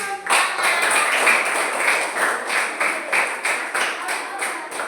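Sixth-grade students clap together in a classroom after a group wins points in a lesson, a loud, close burst of rhythmic, fairly regular claps in unison.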